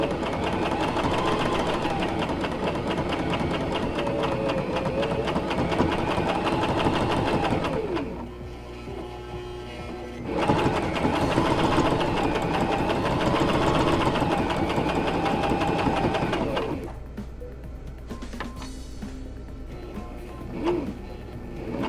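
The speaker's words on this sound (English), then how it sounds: "we're going to go ahead and sew our mask" A sewing machine stitching along the seam of a homemade fabric face mask, running in long, steady bursts of rapid close-up whirring separated by two short pauses.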